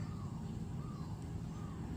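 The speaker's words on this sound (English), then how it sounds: "But right now I hear birds, right?" Birds calling outdoors, a few faint rising cries repeating at a steady pace over a steady low background hum, fairly distant.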